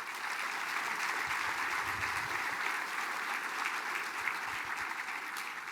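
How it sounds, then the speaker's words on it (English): An audience at a Mille Lacs Band of Ojibwe gathering gives a steady, sustained round of applause, a dense even wash of clapping that carries on without talk. "Can we give Marvin Bruno a round of applause"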